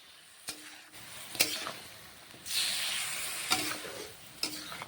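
Chicken frying in a pan, a soft sizzle with occasional sharp utensil taps and a louder burst of stirring in the middle, close and fairly quiet.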